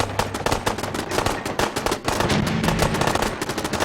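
Rapid automatic gunfire rattles in loud, dense bursts with barely a pause during a firefight in Fallout 4.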